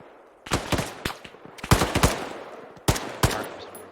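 Several sharp, loud booms of mortar and gunfire in Arma 3, arriving in irregular clusters of two or three blasts with brief echoing tails and no talking.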